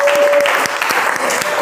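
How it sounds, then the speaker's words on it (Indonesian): A classroom group at an economics lesson claps for two students, a dense, loud burst of applause with some crowd noise, continuing steadily for the short stretch. "Tapi tepuk tangan untuk kalian berdua."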